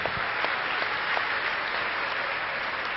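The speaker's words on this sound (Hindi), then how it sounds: "जोरदार ताली बजा के प्रभु का धन्यवाद करेंगे।" Congregation at a church healing service clapping loudly in thanks, a thick, even wash of many hands filling the room without a voice on top.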